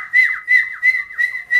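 A high, warbling whistle repeats five times in a steady rhythm, each call a sustained tone with a downward-sliding dip, clear and close with no talk.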